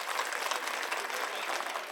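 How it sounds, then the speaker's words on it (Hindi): A crowd at a political election rally in Kondli, Delhi, claps steadily and densely, a loud continuous wash of applause from many hands nearby, with no clear speech. "ताली बजावा सब जने।"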